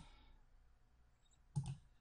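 A single computer mouse click, with a brief doubled tap, sounds near and crisp against a quiet background while files are managed in cPanel during a WordPress install.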